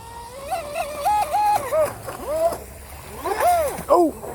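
A fast prototype RC boat with a forward-mounted motor on the water, its electric whine rising and falling in short throttle bursts, loud and close, with some splashing.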